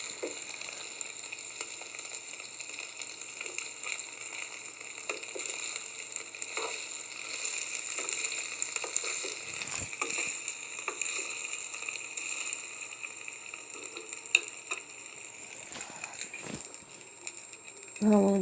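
Grated tomato sizzling in a frying pan of sauce for a chicken taco tagine, a steady close crackle and hiss that runs throughout, with stirring clatters and a voice talking over it.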